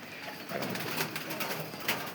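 Fancy and racing pigeons on a farm coo softly around a freshly set water dish, a few low murmuring calls over a faint background.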